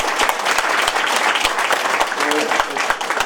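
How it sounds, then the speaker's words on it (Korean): Audience at a Daegu political town-hall event giving a thick, continuous round of applause, many hands clapping loudly and evenly from start to finish with faint crowd murmur. "박수 한번 보내주십시오."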